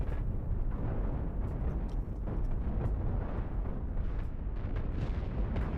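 Ships blow apart in the space combat game Cosmoteer, producing a dense, continuous barrage of dull, rumbling booms and crackling bursts that run together without pause for several seconds, with no talking over it.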